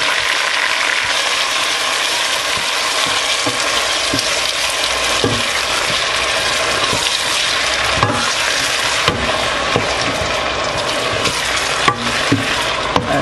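Onion and tomato frying in a pan for a fufu corn and njama njama (huckleberry) meal, a steady dense sizzle running throughout with occasional clicks and stirring scrapes, close and fairly loud.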